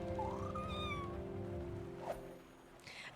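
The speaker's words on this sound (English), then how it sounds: "I think that's the cat making that noise and it's so cute." A cat in the Spiritfarer video game gives a rising, drawn-out meow followed by a couple of softer mews, set over a steady sustained game music bed.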